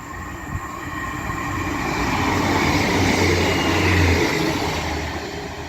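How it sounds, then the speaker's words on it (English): Class 158 diesel multiple unit passing through Castleton station on a Leeds to Wigan Wallgate service, a loud steady roar of engine and rolling wheels that swells toward the middle and stays close throughout, with no voices. "the next train to be coming through will be another pairing of 158, or a single 158, running from Leeds to Wigan Wallgate"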